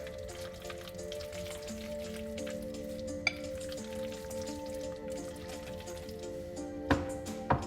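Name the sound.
stirring creamy spicy peanut noodles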